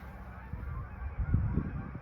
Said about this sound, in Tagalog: Parang turkey, mga pabo.